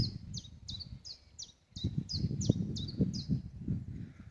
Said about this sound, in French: Entendez l'oiseau?